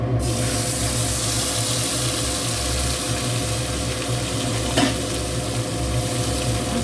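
A mixed paste of ground chili, cumin, ginger and onion fries in hot oil, giving a steady, close sizzle with a single small clink near the end and no voices.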